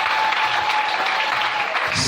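A church congregation applauds in one continuous dense burst of clapping, loud and close, with voices blending into the crowd noise.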